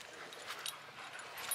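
A Doberman at a dog park gives faint, brief whimpers and yips over a quiet outdoor background.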